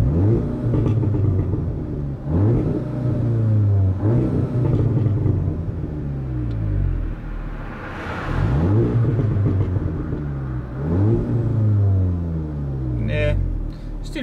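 A 400 bhp 2017 Audi S3 8V Black Edition, Stage 2 tuned, revs repeatedly while parked, with several rising and falling sweeps in loud close succession and brief pops between them.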